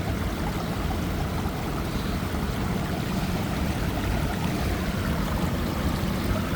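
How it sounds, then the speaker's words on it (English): Water rushes through a gold sluice box run with sand, a dense, steady wash of splashing and gurgling that stays close and even throughout. "Looks like the sluice is running good"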